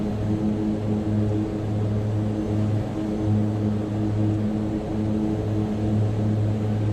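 Mitsubishi MU-2 turboprop taking off in a flight simulator, a steady droning engine roar with strong low tonal hum held evenly throughout, close and continuous with no talk.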